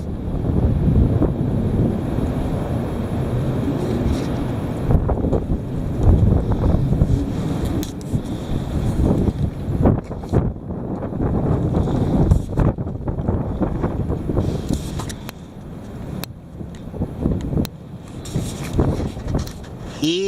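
Heavy wind roars continuously against the microphone, a loud rumbling buffet with gusty swells and dips throughout, no voices.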